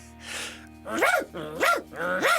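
A man mimics a dog's barking with three loud, rising-and-falling woofs, after a brief breathy sound, imitating a dog named George charging toward the front door when the doorbell rings.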